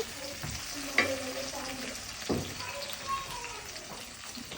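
Whole garam masala spices such as cardamom and cinnamon hit hot oil in a pot for a village-style chicken dish, giving a soft steady sizzle with occasional stirring knocks and background voices.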